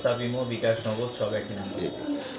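Pigeons at a pigeon farm coo in soft, repeated low rolling calls, close and steady throughout the short stretch.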